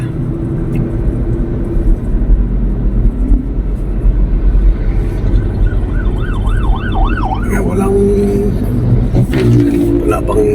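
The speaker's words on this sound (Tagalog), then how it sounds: "bilis pa yung takbo ng sasakyan dito" City traffic in the Philippines moving along a road, with a steady roar of passing cars, a siren wailing briefly partway through, and people talking over the noise.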